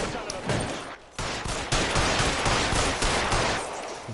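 Dense gunfire from the video game L.A. Noire, loud rapid bursts and overlapping shots forming a continuous close barrage with no pause.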